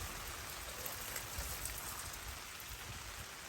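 Water splashes steadily while a hot pot is rinsed out outdoors at a woodland cooking camp, a continuous close hiss of running and spattering water with no speech.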